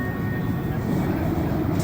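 Riding a Montréal Métro train produces a loud, steady low rumble of wheels and carriage noise from inside the car, constant for the whole stretch with a faint high whine near the end.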